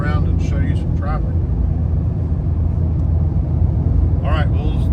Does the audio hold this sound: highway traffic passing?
yes